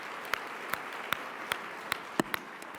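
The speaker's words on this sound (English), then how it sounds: "Let us again give Dr. Soaries a round of applause" A few scattered claps from the audience follow a keynote address by Dr. DeForest B. Soaries Jr. They are faint and isolated, roughly evenly spaced over a quiet background.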